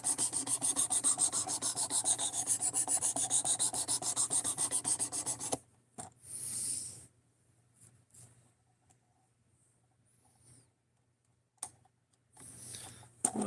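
Steel kitchen knife stroked steadily across a whetstone in a fast, even rhythm of rasping passes for about five seconds, then stopping, leaving near silence broken by a few faint scrapes and handling noises.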